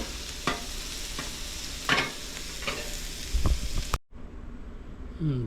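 Sausages, onions and peppers fry on a flat griddle with a steady, close sizzle, broken by a few brief scraping and stirring knocks before the sound cuts off near the end.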